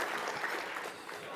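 Audience applause at the Cathedral City State of the City Business Awards & Expo, a brief, dense burst of many hands clapping together that holds steady throughout without fading.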